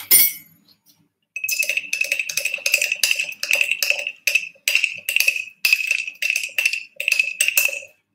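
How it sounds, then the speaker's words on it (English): Homemade craft paint being stirred in a container, giving a steady series of bright clinking taps, loud and close, repeated in quick bursts after a brief pause at the start, with no talking. "Sorry if this stirring sound is really obnoxious in this video."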